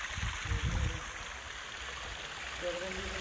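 A small waterfall rushes steadily in the open, a constant broadband wash of falling water, with some low bumps and handling noise early on and a faint tonal sound near the end.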